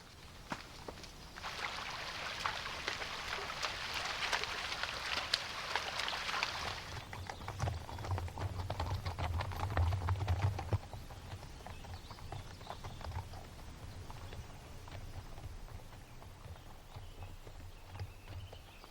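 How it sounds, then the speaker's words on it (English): Horses walk over rough terrain on the American prairie, a steady run of hoof clip-clops at moderate distance, joined midway by a low rumbling, with no talk. "I'm really impressed with these horses and their ability to negotiate this incredible terrain."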